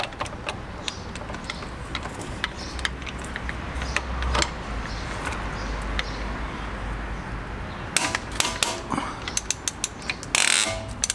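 Ratchet loosening a bolt while fitting a skid plate to a Kawasaki Versys X 300 motorcycle, a run of light clicking ticks, then sharper rapid ratcheting bursts near the end, close by and fairly quiet.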